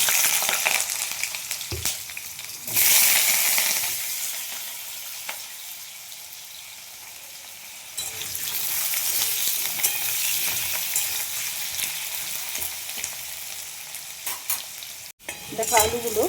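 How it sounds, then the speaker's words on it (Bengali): Two potatoes fry in hot oil in a home kitchen, a steady soft sizzle with occasional stirring and scraping, close and unaccompanied by talk. "দুটো আলুগুলো আমি এখানে ভেজে নেব আগে।"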